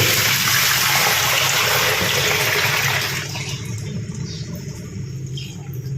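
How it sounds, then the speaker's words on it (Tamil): Dirty water from washing a helmet is poured out of a bucket onto the ground, a loud gushing splash for about three seconds that tapers into a quieter trickle. "வாளியில் நான் தண்ணியை கீழே வீழ்த்திட்டு உங்களுக்கு காட்டேன்"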